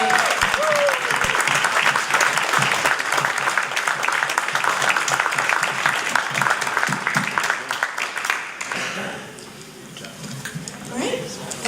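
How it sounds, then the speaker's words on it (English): Sustained, dense audience applause for competitors at an evening student startup competition fills most of the stretch, then cuts off and gives way to quieter room sound and a voice. "Let's get a round of applause for all of our excellent competitors this evening"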